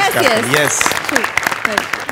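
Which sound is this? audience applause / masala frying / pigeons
audience applause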